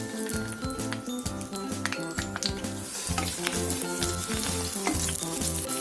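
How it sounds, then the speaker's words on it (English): Mustard seeds and garlic cloves crackle and sizzle in hot cooking oil as a prawn curry is started, a dense, steady frying hiss with sharp pops throughout and a rhythmic musical beat underneath. "Once the oil is heated, add the mustard seeds. Then add garlic cloves."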